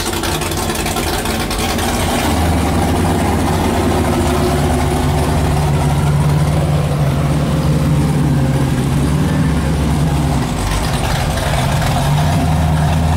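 A straight-piped 440 cubic inch V8 with no mufflers idles on an off-road race truck, a loud, deep, continuous rumble close by with slight lope throughout.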